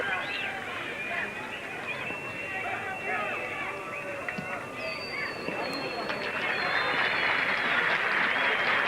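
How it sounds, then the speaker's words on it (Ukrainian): A large football stadium crowd fills the air with continuous applause and cheering, distant and roaring, swelling slightly toward the end. "Оплески болівальників на його адресу."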